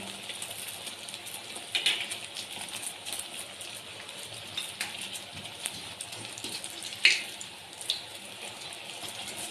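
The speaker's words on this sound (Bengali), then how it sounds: "এরকম 4-5টা করে দিয়ে আমি ভাজবো।" Khaja puri pastries deep-frying in oil, four or five at a time, a steady soft bubbling sizzle with occasional sharp crackles and pops, close and continuous with no talk.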